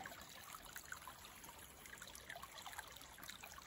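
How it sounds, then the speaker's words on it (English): Mountain stream headwaters trickle softly, a faint, continuous babble of water over stones with small bright splashes, distant and alone. "So there's two streams here."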